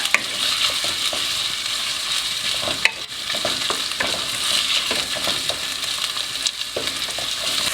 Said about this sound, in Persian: ربم حسابی تفت بدیم تا بوی خامیش گرفته بشه